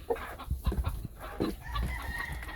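Game hens clucking close by in a coop with straw bedding during early-spring brood season, a run of short uneven clucks and murmurs with one louder squawk, no talk.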